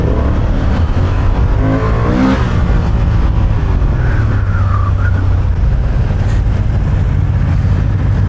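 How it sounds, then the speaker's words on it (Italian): A vehicle revs and accelerates hard in busy Naples traffic, the engine roaring loud and close throughout, with continuous road and wind noise and a brief squeal partway through. "La prima accelerata ho fatto."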